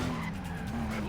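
A car skids hard through a 180-degree handbrake turn in the Stuntman driving game, tires squealing in one loud, continuous slide over a low engine drone.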